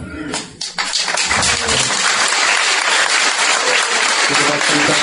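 An audience at a Hare Krishna lecture on the Srimad Bhagavatam breaks into loud, dense applause, starting with a few scattered claps and swelling into sustained clapping throughout.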